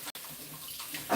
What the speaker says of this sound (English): So I'll just rinse my hands again for the last time